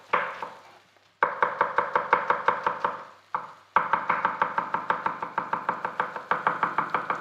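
Knife finely chopping red onion on a board in a home kitchen, a fast run of sharp, even taps up close, paused twice briefly and then resumed at the same brisk rhythm.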